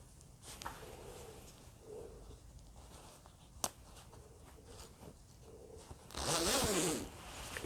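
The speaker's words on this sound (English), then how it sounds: "make sure the zipper works" A zipper runs up a faux fur vest in one quick, fairly loud pull near the end, after quiet handling noises.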